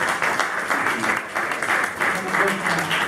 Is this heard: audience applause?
yes